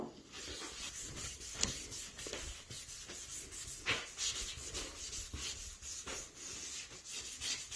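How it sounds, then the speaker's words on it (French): Dry paper towel rubs across a hobby cutting mat in quiet, close strokes, a soft scuffing and wiping that rises and falls with each pass. "Ensuite, vous asséchez le tapis avec du sopalin sec."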